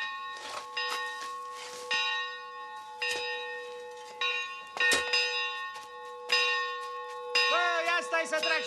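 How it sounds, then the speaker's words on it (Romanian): Church bells ring out in a Romanian village, loud and near, with several clanging strikes whose metallic tones ring on and overlap across the whole passage. "ia stai să trag și eu niște clopote."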